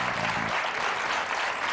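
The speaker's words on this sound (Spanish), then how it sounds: "Un aplauso para Carmen" Studio audience on a Spanish television talk show breaks into sustained applause, a thick, loud, even roar of clapping that fills the whole moment, with a brief voice at the very start.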